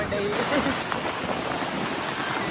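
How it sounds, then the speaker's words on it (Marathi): Steady heavy rain hisses continuously, a dense close wash of falling drops, with a faint voice briefly under it. "पाऊस लागतो तुला चला पाऊस बघा"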